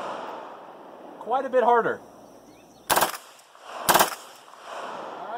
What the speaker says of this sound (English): let's see how easy it is to shoot with just no shoulder stock.